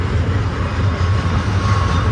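A Union Pacific freight stack train rumbles past nearby on the Mojave subdivision, a steady, heavy low roar and faint rattling of cars, continuous throughout without voices.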